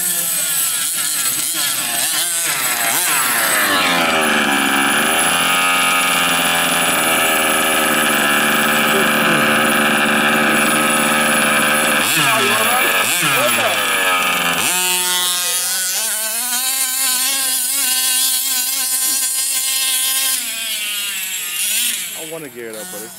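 A Losi Monster XL RC monster truck runs flat out, its electric motor and drivetrain giving a loud, sustained high-pitched whine that shifts pitch partway through, close and continuous for the whole stretch.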